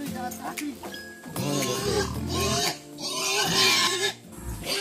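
A pig grunts and snorts in short bursts, close by, while people talk over it.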